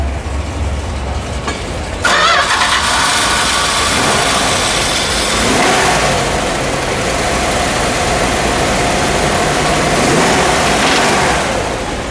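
A 1971 Dodge Challenger R/T's 426 Hemi V8 cranks and catches, then settles into a loud, steady, rumbling idle that continues for several seconds.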